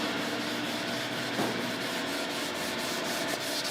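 Steady abrasive sanding on the body of a 1970 Dodge Charger, a continuous close, even rasping rub with slight rhythmic strokes and no voices.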